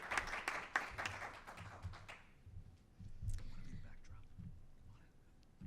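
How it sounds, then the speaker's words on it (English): Applause from an audience at a Kentucky Lottery event announcement, dense clapping for the first two seconds, then fading into murmuring and faint talk. "Let's give her another big round of applause"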